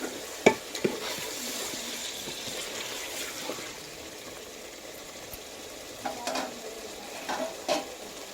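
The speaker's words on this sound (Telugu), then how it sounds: "పౌడర్ గరం మసాలా బాగా కలుపుకోవాలి" Country chicken curry with garam masala powder being stirred in a pan, a steady soft sizzle with a few sharper scraping clinks near the start and end.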